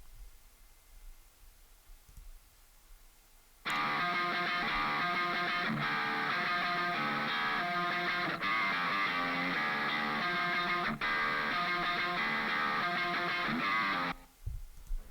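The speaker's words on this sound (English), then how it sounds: "So we've got this little intro guitar at the start of the song" Intro electric guitar part of a modern rock song plays loud and steady for about ten seconds after a quiet start, then cuts off abruptly.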